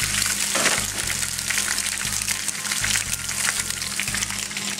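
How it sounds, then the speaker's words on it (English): Leftover pre-cooked pasta fries in a hot pan with onion and garlic, giving a constant close sizzle broken by regular low scrapes and clatters from stirring. "now I'm going to immediately put in already pre-cooked pasta, some leftover pasta I had"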